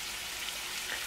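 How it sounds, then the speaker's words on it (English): Onions frying in a couple tablespoons of butter over low heat in a 10-inch skillet, a soft, even, continuous hiss without any pauses, moderately quiet and close, with no voices. "I have a 10-inch skillet with a couple tablespoons of butter, and I have this over low heat. Go ahead and add all the onions in."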